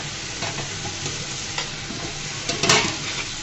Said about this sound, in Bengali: এই পর্যায়ে দিয়ে দিব ধুয়ে কেটে রাখা সজনাগুলা